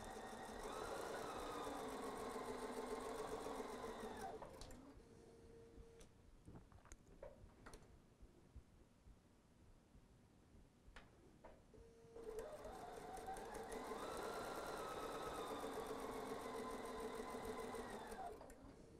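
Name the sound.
sewing machine stitching quilt fabric onto a starter strip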